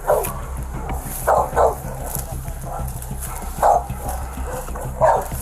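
A police dog barks in short bursts, several loud yaps spaced irregularly, close by over a steady low rumble with background speech.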